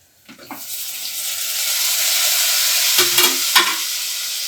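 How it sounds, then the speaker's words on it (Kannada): Onion masala with ginger-garlic paste frying in a pan for aloo methi as tomatoes go in: a steady loud sizzle throughout, with a few scraping stirs near the start and around the three-second mark. "ಇವಾಗ ಟೊಮೆಟೊ ಕೂಡ ಸೇರಿಸ್ಕೊಳ್ತಾ ಇದ್ದೀನಿ ನಾನು ಇದಕ್ಕೆ"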